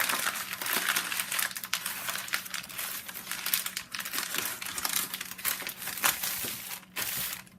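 Crinkly paper pages in a handmade junk journal are handled up close, giving a steady run of dense rustling and crackling with sharp crinkles throughout and no voices.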